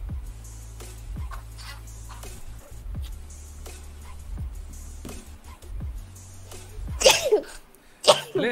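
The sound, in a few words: sneeze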